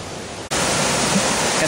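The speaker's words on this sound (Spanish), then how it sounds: "Cascada Quebrada Rincones, en la desembocadura del río López." Waterfall of Quebrada Rincones pouring into the López river on the Agua Blanca páramo near Gachetá, Cundinamarca: a loud, steady broadband rush of falling water, briefly dipping early on, then roaring on evenly and close.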